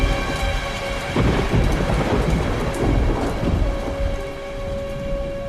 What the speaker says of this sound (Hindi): अरे इन दिनों में बारिश, मौसम, बरसात।